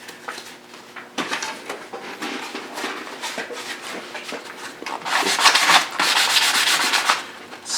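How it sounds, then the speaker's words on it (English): 220 grit sandpaper rubs back and forth on wood in quick, uneven strokes while shaping a guitar brace, close up, growing louder and faster toward the end. "take a sanding sponge and a piece of 220 grit sandpaper"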